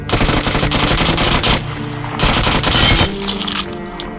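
Loud automatic gunfire in the game Free Fire hammers out in two long rapid bursts, close and aggressive, separated by a short lull with lighter shots.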